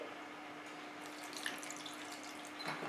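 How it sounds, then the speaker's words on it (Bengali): A soft, steady trickle of water runs into dosa batter made with sour yogurt, a faint continuous pour with slight splashing and no voices. "অল্প জল অ্যাড করছি"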